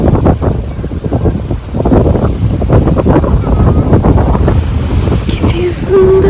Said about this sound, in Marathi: समुद्राच्या लाटांचा आवाज, वाऱ्यांचा आवाज